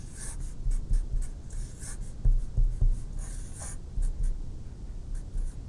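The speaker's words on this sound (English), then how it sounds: "So I'll draw those as circles." A pen drawing circles on a board in a quiet lecture setting, with soft continuous scratchy strokes in short bursts.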